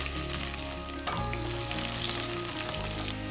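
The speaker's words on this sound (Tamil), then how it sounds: "இதை சேர்த்து நல்லா வதக்கி விட்டுக்கலாங்க." Chopped onion sautés in a pan for a Tamil chana masala gravy, giving a steady, close sizzle and frying crackle that continues without talk.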